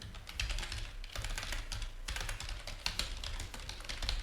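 Rapid typing on a computer keyboard, steady clusters of close key clicks with brief pauses, continuous and fairly loud with no voice over it.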